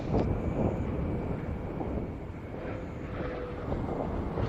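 Space Shuttle Atlantis rolls out along the runway at Kennedy Space Center after main gear touchdown with its drag chute deployed, a loud continuous roar and rumble heard at a distance, buffeted by wind noise.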